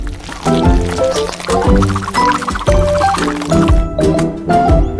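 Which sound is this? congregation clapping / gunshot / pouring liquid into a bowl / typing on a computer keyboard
pouring liquid into a bowl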